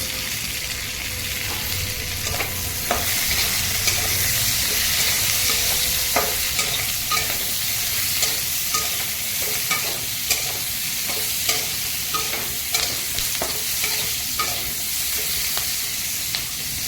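Sliced onions fry in a covered pan, a steady broad sizzle running throughout with regular stirring clinks and scrapes, close and fairly loud with no voices.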